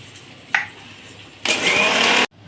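Electric grinder whirring loudly and steadily for under a second while milling dry coriander, cumin, garam masala, mace, bay leaf and dry chilli, preceded by a brief knock and ending abruptly.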